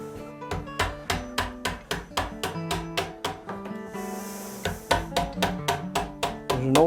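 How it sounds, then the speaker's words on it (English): Mallet blows drive a chisel into wood while an ox yoke is carved, about twenty regular sharp knocks at a steady rhythm, close and loud, with a brief scraping pause partway through. "Chisel it out like that."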